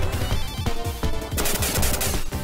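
Rapid gunfire and missile-like weapon shots from the side-scrolling shooter Contra Hard Corps, dense and continuous with bursts of staccato blasts layered over game music throughout.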